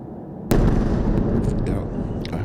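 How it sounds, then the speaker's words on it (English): An airstrike blast from a dumb munition dropped vertically amid street fighting between Hamas and the IDF, a sudden loud boom that cuts in and rolls into a sustained rumble with scattered crackle, heard close and alone. "I heard it on the way down. That was a dumb munition. That was a vertical drop."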